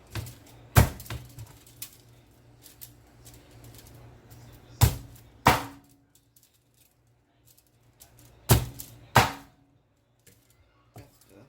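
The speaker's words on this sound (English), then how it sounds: "I went ahead and start chopping up my jerk chicken." Sharp knife chops through jerk chicken on a cutting board, single and paired strikes spaced a few seconds apart over quiet background hiss.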